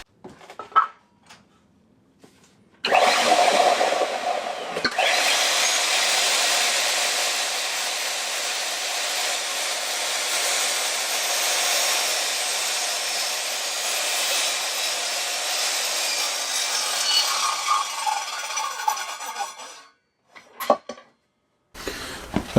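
A DeWalt 10-inch sliding mitre saw cuts timber with a loud, sustained whining roar lasting roughly seventeen seconds, framed by brief clicks and handling noises before it starts and after it winds down.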